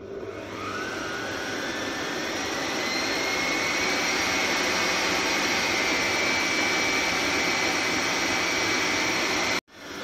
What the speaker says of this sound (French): c'est en train de pétrir au robot